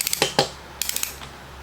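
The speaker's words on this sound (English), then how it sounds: "You have a little ratcheting mechanism right here" The ratcheting mechanism of an old hand brace gives a few short, crisp clicks in two quick clusters, close and fairly quiet.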